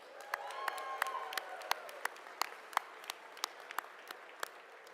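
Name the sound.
audience applause at inaugural ball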